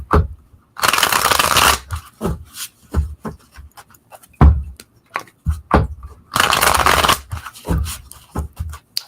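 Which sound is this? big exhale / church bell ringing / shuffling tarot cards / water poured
shuffling tarot cards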